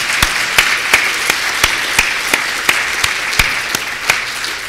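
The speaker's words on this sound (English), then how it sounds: "So please give them a round of applause." Applause at the Ontario Museum Association's 2018 annual conference opening: a steady bed of clapping crossed by sharp, evenly spaced claps from one close pair of hands.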